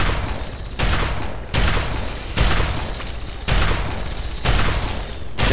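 Gunfire aimed at a creature in the Fallout 3 video game, heard as several loud broadband bursts repeating roughly every second with dense sustained noise between them.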